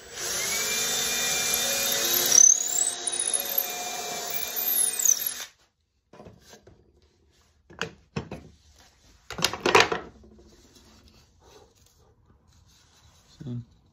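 A power drill bores pilot holes in wood with a loud, steady whine for about five seconds, then stops. Scattered handling knocks and scrapes follow at close range.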